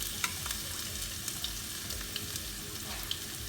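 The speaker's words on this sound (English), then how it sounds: "Saute this a little bit." Garlic and chopped chilies sauté in a pan for a Manchurian sauce. A soft, continuous sizzle carries small crackles and pops, with the quiet scrape of stirring.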